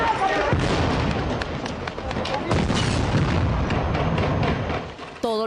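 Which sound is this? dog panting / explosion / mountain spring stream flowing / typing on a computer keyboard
explosion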